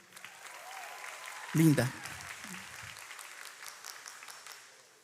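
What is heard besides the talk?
audience applause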